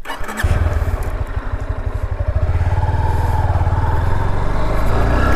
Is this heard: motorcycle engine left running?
yes